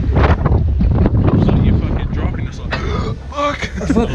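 Strong wind rushing past on a high-speed swing ride at Skyline Rotorua, loud buffeting roar against the microphone throughout, with voices shouting over it near the end.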